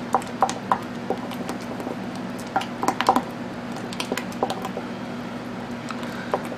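Ayurvedic powders get stirred into creamy hair conditioner in a bowl, with soft squishing and light, irregular taps of the utensil against the sides, close and quiet, with no talking.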